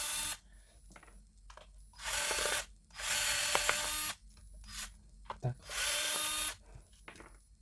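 A small screwdriver or driver unscrews screws from a multimeter case in four distinct bursts of ratcheting, buzzing whir separated by quiet pauses, close up.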